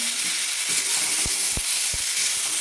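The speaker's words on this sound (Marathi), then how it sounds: "हे दोन मध्यम आकाराचे टोमॅटो घेतले होते कापून ते टाकून घेऊ आपण" Chopped tomatoes drop into hot oil in a pan for a village-style shrimp chutney, setting off a steady loud sizzle with a few sharp spatula knocks and scrapes.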